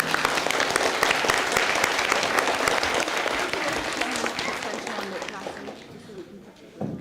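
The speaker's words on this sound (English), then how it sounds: "Clapping will be in order." Model United Nations delegates in a school General Assembly hall clap after a resolution passes, loud dense applause sustained for several seconds and gradually thinning out near the end.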